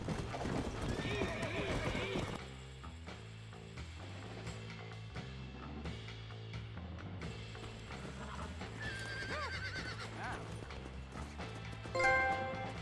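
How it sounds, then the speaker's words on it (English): A horse whinnies loudly over rhythmic clip-clopping hooves in Red Dead Redemption 2, joined by game sound effects, with a brief sharp rise near the end. "that's the horse I need"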